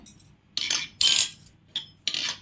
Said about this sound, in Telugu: ఇదిగోండి ఇందులో ఐస్ ముక్కలు వేసుకుందాం